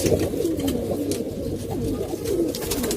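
Male pigeons coo nearby in a continuous low rolling warble that keeps up throughout, with no other voices.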